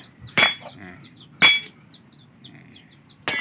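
Three sharp metallic taps spaced about a second apart as a ring is hammered into dry mahogany wood, each ringing briefly, with faint chirping in the background.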